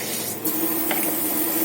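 Cold water runs from a kitchen tap into Turkish coffee pots, a steady close hiss and splash holding evenly throughout, with no talk.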